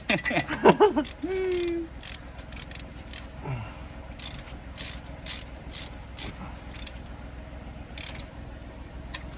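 A wrench ratchets as a fitting is tightened on a 1963 Humber Sceptre, with quick clicking bursts and metallic creaks at close range and occasional brief voices.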